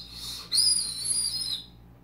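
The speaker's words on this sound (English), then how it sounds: "See, very loud whistle." A ramen-flavoured whistle candy toy from a Japan Crate is blown in one loud, shrill, sustained tone lasting about a second, close up with no talk.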